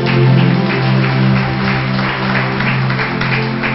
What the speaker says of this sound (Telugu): లయపరచడానికి చప్పట్లు కొట్టండి